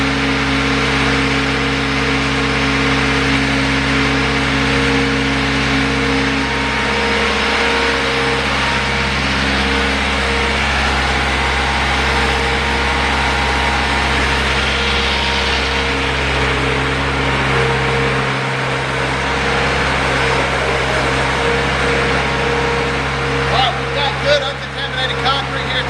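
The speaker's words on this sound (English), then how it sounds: "We're going to pump slowly to get to the end of the discharge line." A concrete pump made for skid steer loaders runs slowly and steadily, pushing material toward the end of its discharge line; its engine hum is continuous and close, with someone talking over it.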